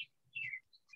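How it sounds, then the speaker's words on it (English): Small birds chirp in a few short, faint tweets heard during a quiet indoor meeting, with a low murmur underneath. "Nice birds."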